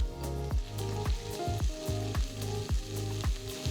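Sliced onions sizzle and fry steadily in hot oil with bay leaves and cumin, a constant close crackle broken by repeated scraping stirs about every half second.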